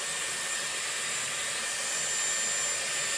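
A Dyson Airwrap styler blows hot air steadily through its 40 mm barrel during a round-brush blow-dry, a close, even, continuous whoosh with no voices.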